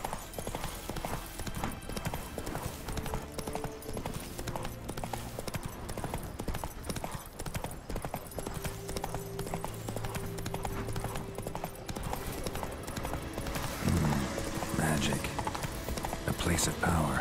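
Horse hooves clip-clopping steadily in The Witcher 3 video game, a continuous rhythmic trot under game ambience and music, with someone talking throughout.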